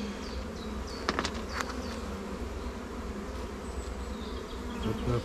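Dense, continuous buzzing of many honey bees up close at an open hive, with a few brief knocks and sharper wingbeats standing out.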